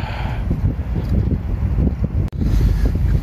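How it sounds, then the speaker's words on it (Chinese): Strong wind buffets the microphone during outdoor fishing, producing a loud, continuous roar with one brief dropout near the end and no voices. "过一会儿看一下这个风会不会变小。 如果一直这样刮，没法钓了。"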